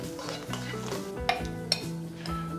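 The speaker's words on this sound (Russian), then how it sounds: "Еще раз перемешиваю." A spoon stirs a salad of chanterelle mushrooms and onion in a bowl, soft scraping and shuffling with a couple of light clinks, close and fairly quiet.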